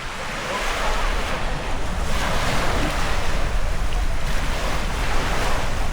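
Sea waves rolling onto the shore at a seafront in San Juan, Batangas, Philippines: a steady, loud wash of surf with soft swells and wind noise across the whole stretch.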